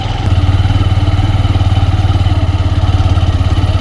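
A motorcycle engine runs steadily at low revs with a pulsing throb while riding a dangerous mountain road in Uttarakhand in the Himalayas, close and loud throughout with no voices.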